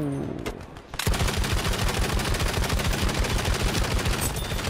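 Sustained rapid machine gun fire in Battlefield 5, a captured Japanese emplacement weapon at Iwo Jima, loud and close, unbroken rattling bursts after a short quieter lead-in.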